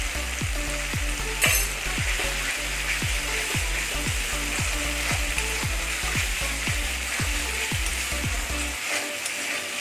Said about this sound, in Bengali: এইভাবে ভালো রকমভাবে মশলাটা কষিয়ে নেবে